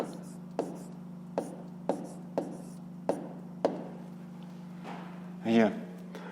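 A pen taps and scratches on paper while numbers are written by hand for a fifth-grade maths exercise: a series of separate sharp ticks, close and fairly quiet, with a short scratchy stroke near the end and a steady low hum underneath.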